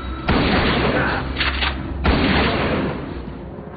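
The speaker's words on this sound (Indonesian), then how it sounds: "Jerry tiba-tiba datang dan menembak Westman dengan shotgun." Two heavy shotgun blasts from a film ring out loud and close, about two seconds apart, each followed by a booming rumble that fades slowly.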